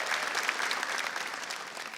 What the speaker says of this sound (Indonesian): tepuk tangan dong buat Balai Sarbende